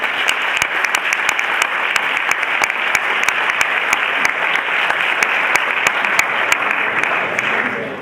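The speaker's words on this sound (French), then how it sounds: "on va pouvoir applaudir Aline et Hermine pour cette conférence" Conference attendees applaud the two speakers at the end of their talk: a loud, unbroken wash of many hands clapping, steady throughout with a few sharper individual claps standing out.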